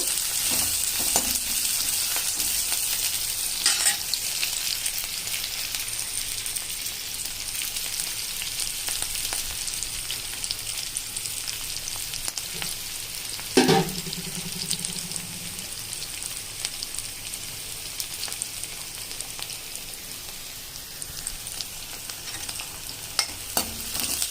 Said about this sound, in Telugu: ఈ ఉల్లిపాయలు బాగా ఎర్రగా వేగాలండి